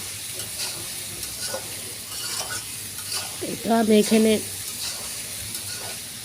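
Vegetables frying in oil and being stirred for khichuri, a steady sizzle with scraping stir strokes and a brief louder clatter midway, while someone talks over the cooking.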